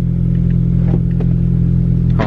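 A Honda Civic K20 engine with an air dump exhaust runs loud and close, a heavy low rumble with slight revving and a brief hiss at the end.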